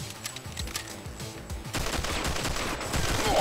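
Rapid gunfire in the run-and-gun video game Not a Hero, a dense stream of quick shots growing louder and more continuous partway through, with no talk over it.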